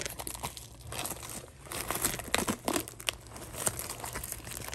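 Foil wrapper of a Pokémon Brilliant Stars booster pack crinkling and tearing open up close, a steady rustle with sharper crackling bursts, no talking.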